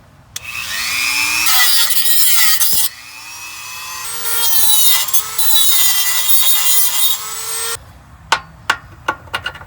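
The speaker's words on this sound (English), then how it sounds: "I'm going to try this Dremel tool." A Dremel rotary tool grinds and cuts through metal during a Curt trailer hitch install on a 2019 Subaru Crosstrek. Loud, close, high-pitched whining runs in bursts with pitch shifts, then gives way to several short sharp clicks and taps.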